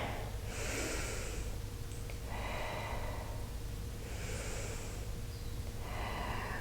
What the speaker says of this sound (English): Inhale forward, exhale up and around.